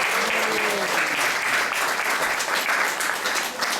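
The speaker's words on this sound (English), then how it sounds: "let's give a round of applause for this wonderful" Steady applause from an audience at a Sunday class in a temple, filling the room continuously for the whole stretch with no voices standing out.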